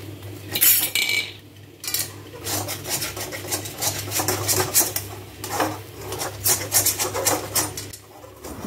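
Mung dal being fried and stirred in a pan, heard as repeated scraping and clinking of a utensil against the metal in quick uneven strokes, close and fairly loud.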